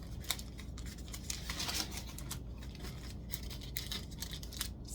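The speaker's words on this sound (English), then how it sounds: "Scissors." Scissors snipping and rustling through new printed tissue paper, with a steady run of crisp, papery crackles and small snips at close range and no talking.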